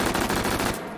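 Full-auto burst from an H&K MP5K fitted with a compensator and foregrip in the VR shooter H3VR: a rapid, loud, continuous string of close gunshots lasting most of a second before cutting off.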